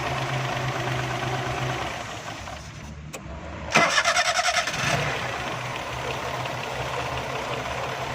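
A car that tends to stall at idle cranks briefly and catches, then settles into a steady, low idle that continues to the end.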